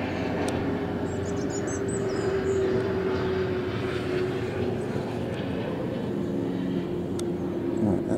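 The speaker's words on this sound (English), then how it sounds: "that's about to land at Cambridge Airport" A light aircraft coming in to land at Cambridge Airport, a steady low engine drone heard at a distance across the whole stretch, with faint outdoor background noise.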